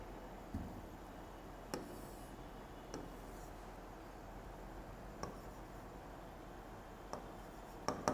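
Pen or pencil writing by hand on paper, a quiet steady scratching with a few soft taps, heard alone in a still room.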